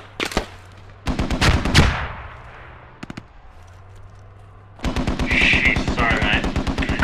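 Gunfire in the Squad military video game: bursts of rapid automatic shots, a few isolated cracks, then a long sustained run of loud repeated fire, with no talking.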